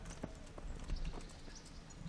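Steady clip-clop of horse hooves at a walking pace in the video game Kingdom Come: Deliverance, moderately close, with a faint background ambience and no talking.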